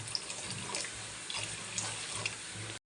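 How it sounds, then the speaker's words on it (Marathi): Water pours steadily into a ground masala paste for a shev bhaji curry. A continuous, moderately close splashing stream lasts nearly three seconds with no voices, then stops abruptly. "त्यात आपण पाणी ॲड करणार आहे."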